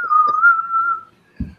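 A person whistles a synth melody, one clear sustained tone of about a second with small pitch wavers, close and loud, followed by a short thump.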